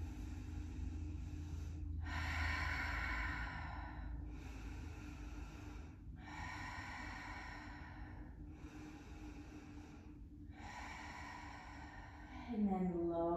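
Slow, deep breaths during a Hatha yoga pose, three long audible exhales spaced a few seconds apart and a fourth breath starting, close and soft, with a voice murmuring near the end.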